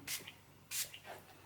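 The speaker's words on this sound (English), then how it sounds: "Scalp protector being sprayed on." Two short bursts of scalp protector sprayed from a can onto a non-surgical hair system, close and crisp hissing puffs separated by a pause, with faint rustling between.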